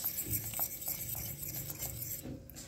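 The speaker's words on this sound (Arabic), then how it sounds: "اجي اقلب الملوخيه كده اهو" Molokhia being stirred in a cooking pot at home, a steady scraping and rubbing of a utensil against the pot with soft irregular strokes, close by and without talk.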